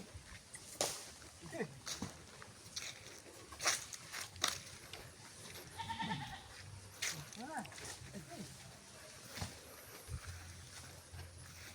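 A goat bleats several times outdoors at a farm, short wavering calls at moderate distance mixed with footsteps, rustling and people chatting nearby.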